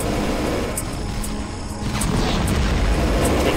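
Rocket launcher firing at alien turrets in Factorio, a dense rumbling boom with a crackle of explosive bursts, loud and continuous across the short span.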